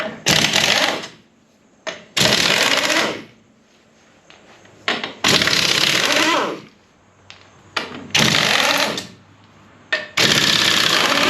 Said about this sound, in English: Let's pop this wheel off real quick.